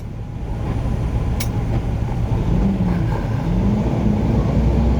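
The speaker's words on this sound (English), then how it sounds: "Little car is just doing about 10 miles an hour around this Cloverleaf here." A small car driving slowly around a freeway cloverleaf, heard as a steady low road and engine drone from inside a vehicle, gradually growing slightly louder.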